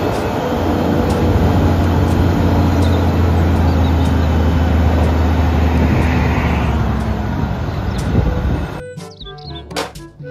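A toy dump truck runs with a steady, loud mechanical motor drone and rumble for about nine seconds, then cuts off into a few brief clicks.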